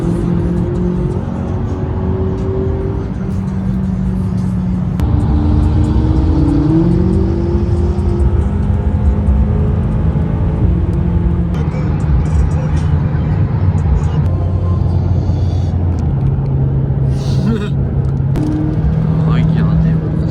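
Supercar pulling through Paris streets, its engine droning and surging loud and close, alternately accelerating and easing off, with voices chatting over it.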